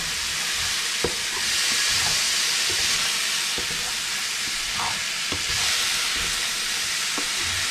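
Mushrooms and pork drippings sizzle with sherry in a pan, a steady close hiss with occasional stirring clicks and scrapes throughout.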